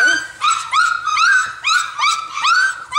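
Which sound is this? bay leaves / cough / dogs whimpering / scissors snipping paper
dogs whimpering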